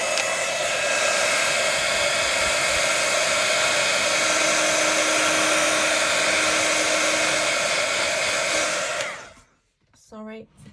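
A hair dryer blows loud and steady for about nine seconds, drying distress ink splats in a craft session, then cuts off abruptly, followed by a brief trailing sound.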